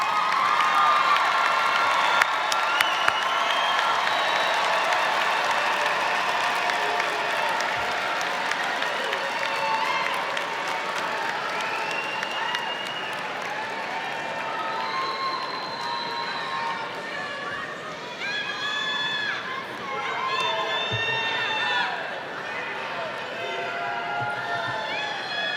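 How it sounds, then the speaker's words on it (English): A graduation commencement crowd applauds and cheers, with clapping, whoops and children's shouts that build, then thin into scattered chatter and voices calling out as families find each other. "give them a big round of applause"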